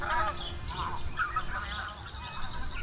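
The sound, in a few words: birds calling over Nanji wetland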